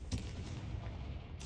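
A Confringo spell explosion in Hogwarts Legacy, a dense, loud booming rumble that fills the moment with a sharp blast at the start and another at the end.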